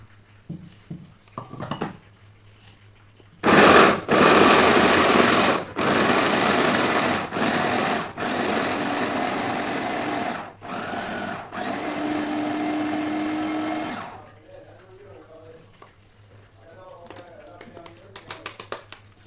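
A kitchen mixer grinds loudly in several long bursts separated by brief pauses, with quiet talk just before and after the whirring.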